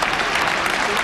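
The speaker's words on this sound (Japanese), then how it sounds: "会場からも大きな拍手" A brief burst of loud crowd applause in an arena after a table tennis rally in a 2007 match between Mizutani Jun and Yoshida Kaii, dense and close.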